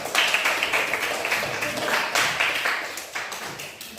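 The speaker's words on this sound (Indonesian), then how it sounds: "Yang tepuk tangan untuk Salur." A group of students clapping their hands in a classroom, a steady patter of overlapping claps lasting several seconds at moderate loudness.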